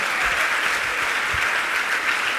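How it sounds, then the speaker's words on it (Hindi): Dense, steady applause from a large seated audience at a religious assembly in Jharkhand, a continuous wash of many hands clapping at close range with no voices above it. "अब तो ताली बजाइए आप।"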